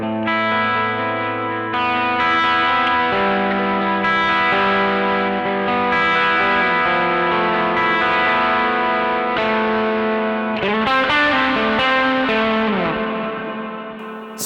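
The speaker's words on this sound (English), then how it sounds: "Huge reverb with a boosted level going into it." An electric guitar played through a TC Electronic Arena reverb pedal, its sustained chords washing into a huge, dirty ambient reverb with thick distorted shimmer, loud and continuous, swelling into a dense smeared tail near the end.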